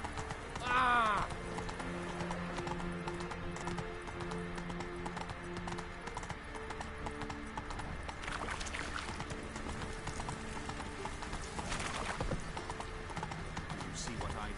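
Roach the horse in The Witcher 3: Wild Hunt, hooves clip-clopping steadily beneath game music and ambience, with a short whinny near the start and voices talking over parts of it.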